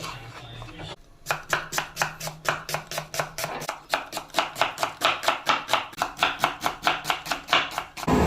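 An onion is chopped with a knife on a board for a catering-style chicken roast, in a fast, steady run of about twenty-five sharp, close chops. A short quiet lead-in comes first.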